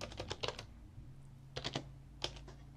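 Quiet typing on a computer keyboard, with short clusters of clicky keystrokes in three bursts separated by pauses, over a faint steady hum.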